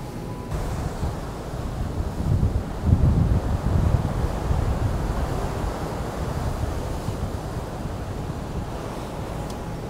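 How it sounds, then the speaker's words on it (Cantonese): Steady, heavy wind roars across the microphone on the 7th-floor deck of a ship with a rushing sea below, a continuous loud outdoor wash with no voices. "好舒服啊，吹下海風。 咁呢度咧就係船嘅甲板嚟嘅"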